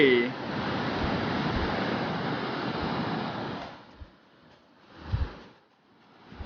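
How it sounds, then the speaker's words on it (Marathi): Steady roar of heavy water falling from a dam in the Konkan region fills the first few seconds, then eases into a softer rushing with a couple of low thumps and gusts. "पाणी तुम्ही बघू शकता किती मोठ्या प्रमाणात वरून खाली पडतंय ते"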